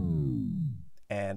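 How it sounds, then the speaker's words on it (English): A tape stop spin-down effect applied to a music track in DaVinci Resolve: the tones slide steadily downward in pitch and slow to a halt, followed by a brief gap before the music cuts back in. "that's how easy it is to create a tape stop or spin down effect"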